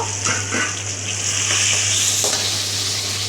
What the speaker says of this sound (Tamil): இதோட நம்ம கட் பண்ணி வச்ச சேப்பங்கிழங்கு இதில் ஆட் பண்ணி வதக்கிக்கலாம்